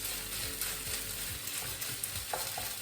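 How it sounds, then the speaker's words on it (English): Rice, beans and chorizo sizzle and crackle in butter in a frying pan with occasional stirring scrapes, a steady soft hiss close by and no voices. "I've got the rice, beans, chorizo heating up in the frying pan"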